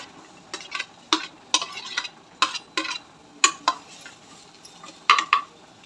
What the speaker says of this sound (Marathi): आता आपण हे मसाले सगळे भाजून घेऊया। मी कांदा टाकून घेते